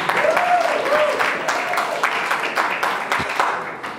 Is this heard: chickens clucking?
no